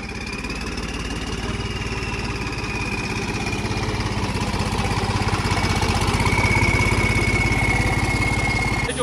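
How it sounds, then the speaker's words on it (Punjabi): A tractor engine runs steadily with a heavy disc harrow of about 925 kg hitched behind, a loud, continuous mid-pitched chug with a rhythmic knock that swells slightly toward the end. "ਤਵੀਆਂ ਭੈਣ ਜੋ ਜਾਨ ਕੱਢ ਦਿੰਦੀਆਂ ਟਰੈਕਟਰ ਦੀਆਂ"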